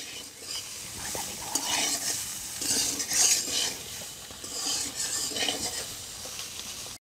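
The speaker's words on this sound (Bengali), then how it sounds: "সয়াবিনগুলোকে একটু পরপর এইভাবে নেড়ে নেড়ে ভেজে নিতে হবে।" Steady sizzling of soybean chunks frying in a pan, with repeated scraping and clinking of a utensil as it's stirred throughout.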